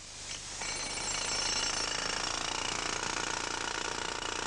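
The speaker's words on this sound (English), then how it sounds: "The most popular of the pneumatic tools is this pneumatic hammer, also commonly called a jackhammer or Kango drill." A pneumatic jackhammer breaking concrete pounds continuously at close range, a loud, rapid hammering that holds steady throughout.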